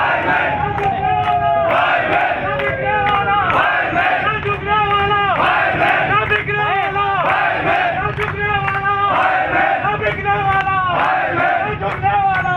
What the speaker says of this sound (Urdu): اس موقع پر فائر مینوں نے زبردست نعرے بازی کی، ہم آپ کو سنواتے ہیں، سنیے